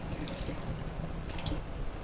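Water drains from a cooking pot of millet vermicelli upma, a steady close pouring and splashing wash with faint drips throughout, with no voices.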